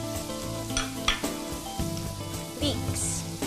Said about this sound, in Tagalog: Simula tayo ng saute. Tahin natin ang garlic.